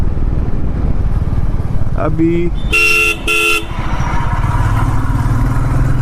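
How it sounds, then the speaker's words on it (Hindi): Motorcycle riding at around 40 to 60 km/h on a road, captured by a mobile phone mic, with a steady loud engine drone and wind noise, a couple of short horn toots from nearby traffic and a voice talking over it. "स्पीड में बाइक की आवाज़ कैसी आती है"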